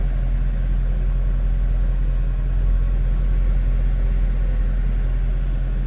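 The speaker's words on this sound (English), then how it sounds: "It's got just this menacing, deep throaty exhaust note." 2009 Mercedes-Benz SL63 AMG roadster V8 idling, heard from behind at the exhaust: a steady, deep, throaty rumble, close and even, with no talk.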